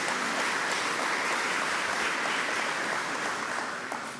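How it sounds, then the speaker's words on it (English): An audience at a governor's announcement gives a round of applause for law enforcement officers, steady moderately distant clapping that carries on evenly before tapering slightly at the close. "let's give another round of applause to all of our men and women in law enforcement"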